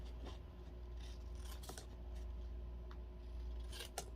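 Scissors snip and rub through paper while a scrapbook kit page is trimmed, several close, quiet cuts over a steady low background hum, with no speech.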